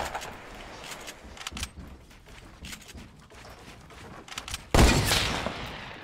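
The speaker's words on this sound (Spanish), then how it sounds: "disparó y no me dio" Gunfire in a battle royale shooter: scattered distant shots through most of the stretch, then a sudden loud close burst near the end.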